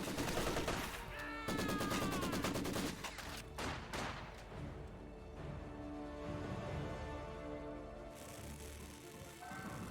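Gunfire in a Company of Heroes 2 battle: bursts of rapid machine-gun rattle and scattered shots over a busy layered game soundscape, with other battle noises mixed in at moderate loudness.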